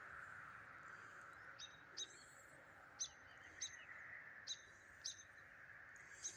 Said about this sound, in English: So we got a few little birds out here.